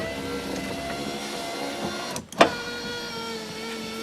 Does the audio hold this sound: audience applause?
no